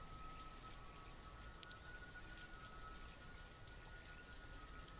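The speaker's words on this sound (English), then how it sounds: "let's speed past this rain. I don't like the rain." Steady rain in the video game Banished, a soft, continuous hiss of falling drops that stays even and fairly faint throughout with no voices.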